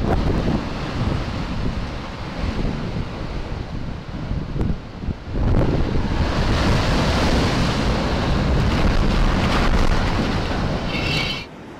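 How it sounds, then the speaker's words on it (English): Strong ocean waves surge along the Portuguese coast, a loud, continuous roar of surf with heavy wind noise buffeting the microphone, swelling even louder partway through and staying close and dense. "Strong waves in Portugal decide to give some garbage bins a good clean."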